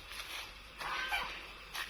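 Geese honk in short, nasal bursts, a few overlapping calls standing out over a steady outdoor background, moderately near and not very loud.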